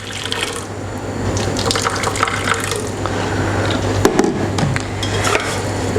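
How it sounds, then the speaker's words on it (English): Water pours from a tap into a pan holding 200 grams of rice, a steady close splashing fill that deepens as the pan fills, with a brief clink midway. "I'm going to add on to that 250 grams of water"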